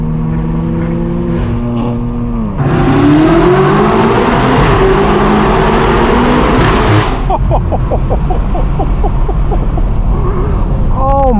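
A tuned 1000 hp BMW M8 Competition roars hard through an upshift from third to fourth gear, the loud exhaust note climbing in pitch, cutting abruptly, then pulling again with crackles, close and dominant over brief talk.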